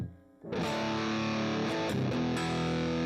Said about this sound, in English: Let's just hit the distortion all the way up.